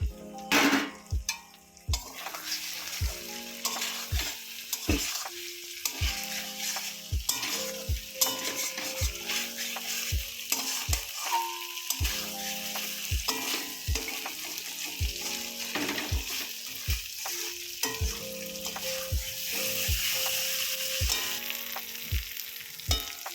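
Choi pepper stems frying in a pan for a singhi fish curry, with a steady close sizzle under repeated sharp clicks of a spatula stirring and scraping throughout.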